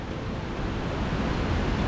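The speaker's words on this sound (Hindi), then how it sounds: "और इस साइड वाटरफॉल बहुत ज़्यादा हो रहा है" Waterfall roaring beside the steep Kheerganga trekking trail, a dense, steady broadband rush of falling water that fills the whole stretch without pause.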